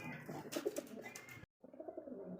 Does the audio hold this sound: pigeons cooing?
yes